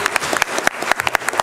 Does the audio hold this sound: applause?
yes